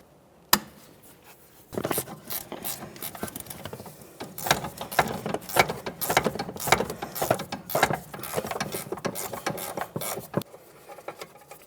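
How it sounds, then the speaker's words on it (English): Ratcheting work with an 18mm wrench on a front sway bar link nut of a 2012-2018 Nissan Altima, giving a run of close, sharp metallic clicks in bursts, with no talk. "we'll use our 18mm to remove the nut, which is on the inboard side of this"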